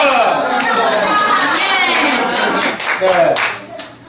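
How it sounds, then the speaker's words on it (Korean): A church congregation claps briskly while voices chatter over the clapping, the mix of hands and talk staying loud and close before easing off at the end. "박수 주세요."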